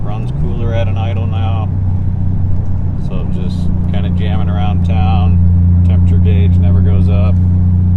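A Toyota MK3 Supra with a roughly 400 hp 7MGTE engine, idle lowered from about 1200 rpm, cruising around town: a steady, deep engine drone runs throughout beneath ongoing talk.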